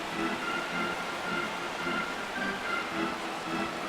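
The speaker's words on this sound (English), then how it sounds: "Crowd gets up for the 3-2." Stadium crowd noise from the baseball video game MLB The Show 17, a steady broad wash of cheering and murmuring at moderate level, continuous without breaks.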